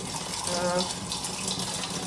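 Water runs steadily from a kitchen tap with a continuous, soft hiss and splash that stays even and moderately faint for the whole stretch.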